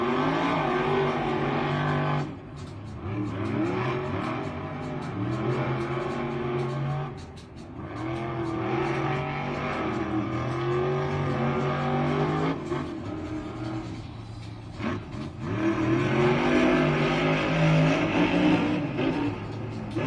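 Two Monster Jam monster trucks race head-to-head at a stadium event, engines roaring and revving hard with repeated surges and dips in pitch as they accelerate, loud and sustained throughout.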